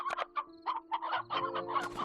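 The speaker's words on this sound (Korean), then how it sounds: "닭이 많네?" Chickens cluck in the farming video game Slime Rancher: a quick run of close, choppy clucks and short squawks, with a steady game hum underneath.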